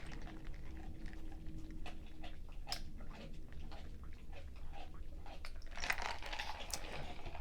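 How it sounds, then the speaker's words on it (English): A dog gnaws on a rawhide bone under a table indoors, giving repeated close crunching and scraping bites in an irregular rhythm over a steady low room hum. "I want to give a shout out to Snowflake, who is directly under my table, chewing on a rawhide bone"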